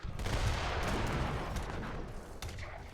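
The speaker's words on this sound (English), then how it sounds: "Oh, blasted away with the heavy cannon." A heavy cannon booms in an eight-player free-for-all match of Age of Empires III, a dense, continuous roar of artillery blasts and explosions layered loudly over one another.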